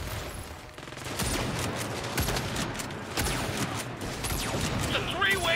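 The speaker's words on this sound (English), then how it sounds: "It's a three-way goddamn firefight!" Gunfire rattles through a three-way firefight in the video game Saints Row, a steady stream of bursts and cracking shots layered over a busy, crashing background, with a voice briefly heard in the mix.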